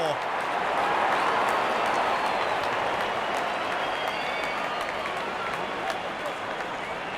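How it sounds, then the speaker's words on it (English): Cricket stadium crowd cheering and applauding after a boundary, a broad continuous wash of clapping and roaring that peaks early and slowly eases, steady and loud throughout. "The crowd is enjoying every bit of this action."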